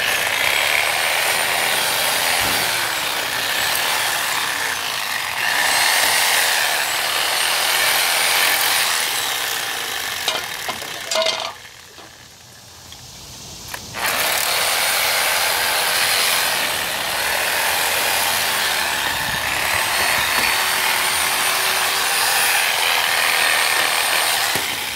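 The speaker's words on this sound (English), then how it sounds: "I like the Sawzall because when it's jerking back and forth, it actually tries," A Sawzall reciprocating saw is worked through the clogged blades of a garden tiller with a loud, continuous buzzing rasp at close range. About halfway through it stops briefly, then resumes its steady back-and-forth grind.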